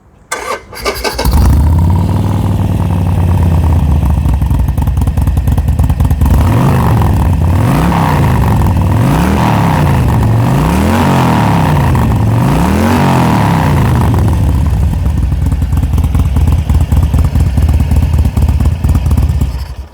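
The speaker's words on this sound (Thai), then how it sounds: "มาขอฟังเสียงเครื่องหน่อยครับ" A 2017 Harley-Davidson Sportster 48 motorcycle starts and settles into a loud, rumbling V-twin idle. Midway come a run of about five rising and falling throttle revs, then it returns to a steady idle, close up with no talking.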